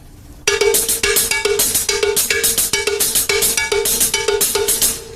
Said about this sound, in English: Let's put the right hand on the cowbell and the left hand on the hi-hat.